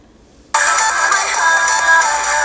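After a short hush, a ringtone on an Umi Emax smartphone bursts out suddenly and plays loudly and steadily nearby, with bright tones and no talk over it.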